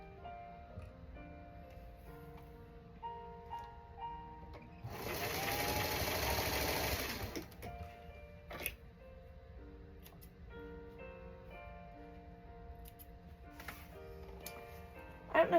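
A quiet sewing machine runs in one short, loud whirring burst while blue squares are sewn onto a quilt block. Faint ticks and soft handling noises sit around it in an otherwise quiet room.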